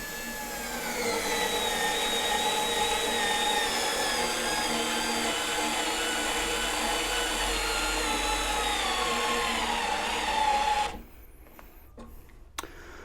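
An Ingco cordless power tool runs at its maximum torque setting, a loud steady motor whine with shifting pitch that holds for about ten seconds, then cuts out abruptly, followed by a few faint clicks.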